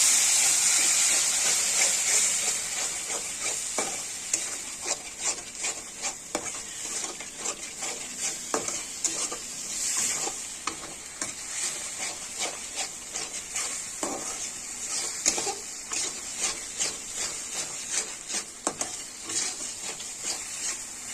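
Pabda fish curry with tomato paste sizzles and spits in hot oil in a pan while a spoon stirs and scrapes repeatedly, the frying loud at first, then settling into a softer hiss.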